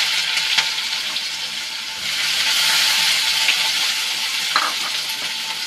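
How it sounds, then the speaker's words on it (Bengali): Whole cumin and chopped onion fry in a hot pan with a loud, continuous close sizzle, rising briefly in the middle, broken by a couple of sharp stirring clicks and scrapes; nobody speaks. "দিয়ে দিচ্ছি একটু জিরে, গোটা জিরে। পেঁয়াজটা দিয়ে দিচ্ছি"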